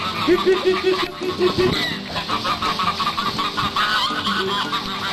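Chickens cluck and squawk in a lively, overlapping chorus on a traditional sugar mill farm in Pernambuco, loud and continuous and fairly close, with people talking underneath.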